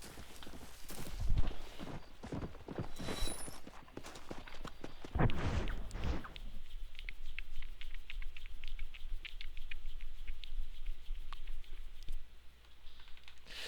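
Horse hooves clip-clop in Red Dead Redemption, a steady patter of walking steps running through most of the stretch, with a louder burst of other game sounds early on. No talking.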